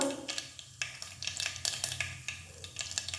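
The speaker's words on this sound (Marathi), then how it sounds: "तेल तापलेलं आहे त्यात आता अर्धा चमचा मोहरी पाव चमचा जिरं अर्धा पाव चमचा हिंग" Mustard seeds, cumin and asafoetida crackle in hot oil, a steady dense sizzle broken by sharp popping bursts that keep coming throughout, heard close with no voices.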